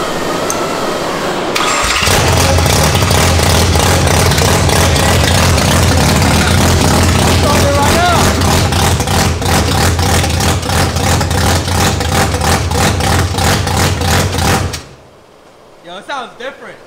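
An E Production race car engine fires up after a short crank and settles into a loud, steady, pulsing idle for about thirteen seconds before cutting off, with faint voices afterward.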